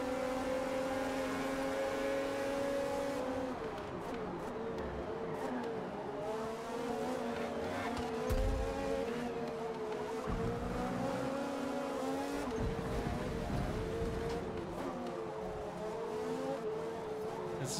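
Formula race cars, among them a Ferrari, screaming around a track in a 1970s-era racing game, engines droning and shifting pitch as cars pass close by, with steady revving throughout.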